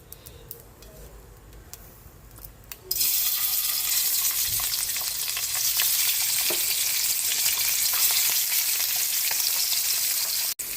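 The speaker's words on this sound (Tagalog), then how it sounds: "Piprito na natin yung ating pork steak." Pork steak dropped into hot oil in a pan, a sudden loud sizzle that starts after a quieter stretch and then holds as a steady, close crackling fry.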